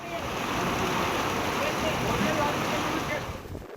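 Dense, steady roar of heavy rain mixed with gusting wind during a storm in Kalimpong, loud and continuous throughout before easing slightly at the end.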